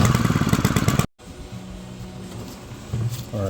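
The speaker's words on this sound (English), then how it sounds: "if your trimmer does this at idle, the head keeps spinning" String trimmer engine idling with its cutting head still spinning after a loud revving burst that cuts off abruptly, then a steady low rough idle that swells slightly at the end.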